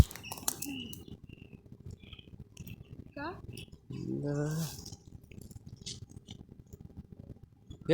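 Short, high chirps from a small bird, likely a sparrow, come in scattered bursts, close by, mixed with rustling and people talking.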